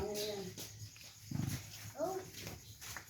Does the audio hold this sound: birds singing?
no